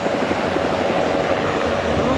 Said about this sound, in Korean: 수리온 헬기 한 대와 블랙호크 2대, 스쿠프 헬기 2대, 중헬기 5대 편대가 산불 현장에 진입하고 있습니다